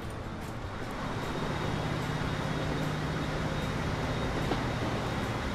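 A diesel train in the game Transport Fever slowly gathers speed, a steady low engine drone and rumble with faint rail noise that swells after the first second and then holds, loud and continuous with no talk.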